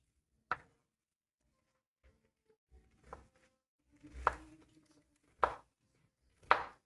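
A knife chops vegetables into thin pieces for borscht, giving about five sparse, sharp knocks on a cutting board. They are close and fairly quiet, with silence between them and no talking.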